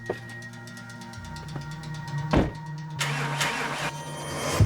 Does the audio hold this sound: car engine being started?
yes